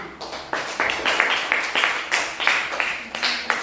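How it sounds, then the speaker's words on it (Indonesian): A class of fourth-grade schoolchildren claps in a steady rhythmic pattern, several bursts of applause following one another in a classroom. "Mari kita tepuk tangan."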